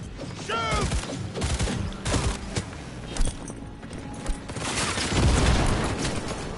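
Turret gunfire in Cyberpunk 2077 played on a PS4 Pro: a rapid, busy volley of shots and mechanical clatter with booms, dense and loud throughout.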